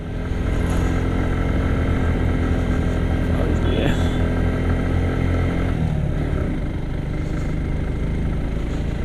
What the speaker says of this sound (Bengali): ফার্স্ট গিয়ারে বাইক ওঠাচ্ছি।